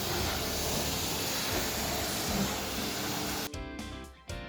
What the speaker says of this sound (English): using high pressure rinse off the worst of the